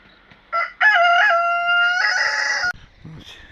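A rooster crows loudly and close by, one long drawn-out call, with a few short clucks before and after.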